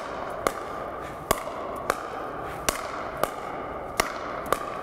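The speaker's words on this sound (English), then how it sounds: "nice and easy, volleying back and forth" Pickleball paddles volleying a ball back and forth during a punch-volley drill, sharp hollow pocks landing about every 0.6 to 0.8 seconds in a steady rally rhythm over a constant background hum.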